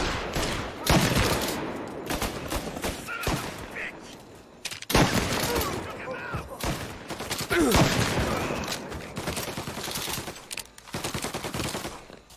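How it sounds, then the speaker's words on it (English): Rapid bursts of gunfire fill a shootout in the video game Mafia Definitive Edition, dense volleys and single shots coming in waves with brief lulls, some voices shouting under the shooting. "Reports of gunshots rolling in."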